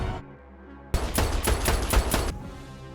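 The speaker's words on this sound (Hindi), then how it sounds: "जेंग गोली चलाता रह गया।" Gunfire from the film Lucy rings out in a rapid burst of loud, close shots lasting about a second and a half, set against a quiet, low score.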